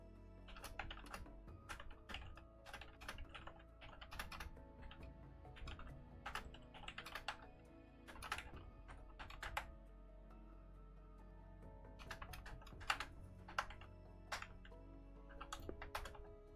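Someone types on a computer keyboard in a quiet room, producing irregular bursts of light, close key clicks with brief pauses between phrases, soft and steady throughout with no talking.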